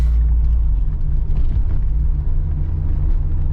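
A 1984 Porsche 944 engine idles with a loud, steady low rumble, close and continuous with a slight throbbing pulse and no voices.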